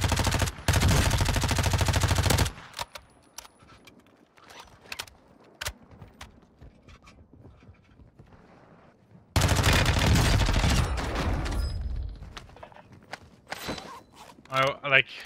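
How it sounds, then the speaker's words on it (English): Bursts of M13B rifle fire in the shooter game Warzone, two loud, dense volleys at the start and again near the end, with quieter footsteps and gear clatter in between and a few sharp shots at the close. "I wasn't ready for the burst fire."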